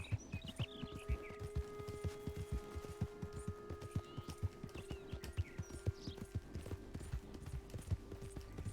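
Horse hooves clip-clop in a steady, quick rhythm in the video game Red Dead Redemption II, close and continuous, with a faint low hum underneath and no talk.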